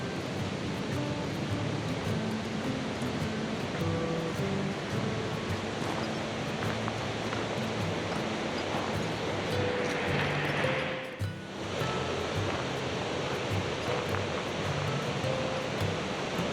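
Continuous broadband rush of river water flowing near Youngs River Falls in autumn, a steady close roar with no breaks across the whole stretch.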